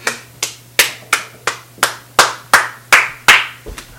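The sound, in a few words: hands clapping to turn on the light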